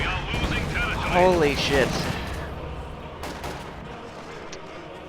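A Stuka dive bomber barrage in a World War II strategy game, a dense run of gunfire and blasts over a steady battle din, with a voice speaking briefly over it.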